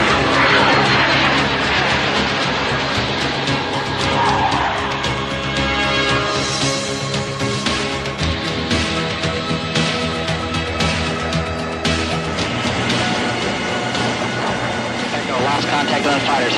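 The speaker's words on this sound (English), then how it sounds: "Montana flies at very low altitude, using mountains and valleys as cover from probing radar beams" A fighter jet roars past at very low altitude, a loud, continuous engine blast that stays heavy throughout, with voices talking over it.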